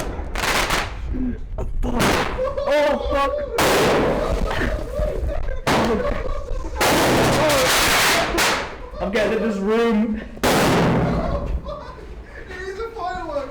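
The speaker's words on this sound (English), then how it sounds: "It is a firework, dude!" Fireworks set off by freight train hoppers explode in loud, sharp bangs and crackling bursts up close, with people shouting, swearing and laughing between the blasts.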